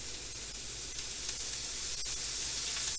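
Avocado oil sizzling in a hot pan while cooking beef stir fry, a steady broadband hiss and crackle that rises slightly in level and holds throughout, fairly quiet and close, with no talking.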